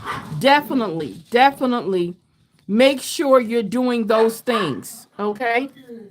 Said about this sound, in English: You guys have to excuse my dogs.